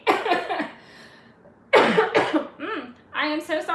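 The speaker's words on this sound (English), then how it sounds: "That was a cough and a sneeze all in one." A combined cough and sneeze bursts out mid-session at a home January 2023 planner setup: a sharp explosive blast followed by a few rough, throaty follow-up bursts, close and loud, with talking before it.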